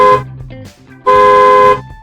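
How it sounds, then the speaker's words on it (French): A bus horn honks twice, a short harmonic blast followed after a brief pause by a longer, sustained one, loud and close. "Oh, c'est le klaxon du bus."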